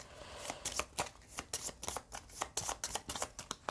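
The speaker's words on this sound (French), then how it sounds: "Je mélange mes cartes." A deck of playing cards being shuffled during a solo tabletop card game, with quick riffling bursts repeating close by and no one talking.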